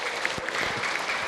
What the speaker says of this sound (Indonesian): Boleh tepuk tangan Ibu?